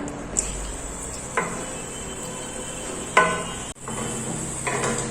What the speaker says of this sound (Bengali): দেখুন অনবরত নেড়ে যাচ্ছি, যাতে ধরে যাতে না যায়